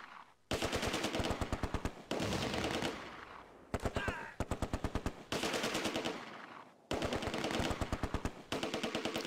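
Machine gun and rifle fire in the Close Combat: A Bridge Too Far war game at Arnhem bridge, with loud rapid bursts in several long volleys separated by short pauses.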